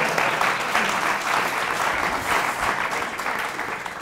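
A crowd applauding steadily, a dense wash of clapping hands that holds at an even, fairly loud level throughout.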